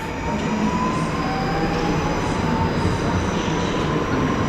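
Passenger train pulling out of a station, a continuous rolling rumble with faint wheel squeal and a rising tone as it moves off, heard nearby with no speech.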